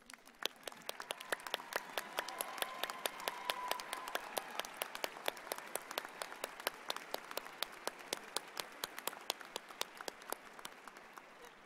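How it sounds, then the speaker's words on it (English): An audience at the 2018 University of New Mexico College of Nursing spring convocation applauds its nursing faculty with sustained clapping. Individual claps are distinct and steady, rising slightly before holding at an even, moderately distant level. "Please stand so we can applaud the work that you do."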